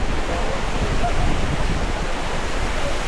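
Katiki Waterfalls near Araku, water dropping from height, sends out a loud, steady broadband roar with no breaks.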